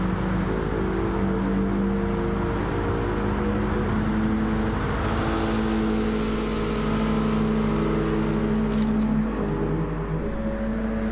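Racing car engines drone continuously in a PS4 racing game, one of them a Mitsubishi, with a loud steady rev that rises and falls slightly as the cars hold speed. No speech.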